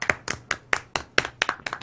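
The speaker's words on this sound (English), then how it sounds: "Silly clapping into a microphone" A single pair of hands clapping close to a microphone, about eight sharp, loud claps in an uneven rhythm.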